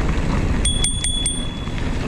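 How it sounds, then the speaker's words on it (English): A bicycle bell on a Specialized Levo SL mountain bike rings four quick, bright dings close to the microphone while riding in Baggeridge Country Park, over steady wind and trail rumble. "I've got a working bell on this bike."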